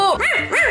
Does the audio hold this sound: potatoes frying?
no